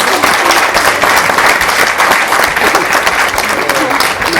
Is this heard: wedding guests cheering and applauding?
yes